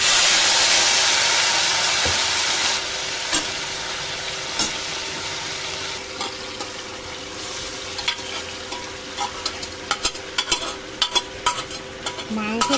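Mutton with potato and papaya fries in a pan, giving a loud steady sizzle at first that settles into a softer hiss, with frequent clinks and scrapes of stirring growing busier toward the end.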